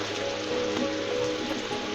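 Hot water is poured into a pot of spicy beef curry with potatoes, a steady splashing rush that stays loud and even throughout.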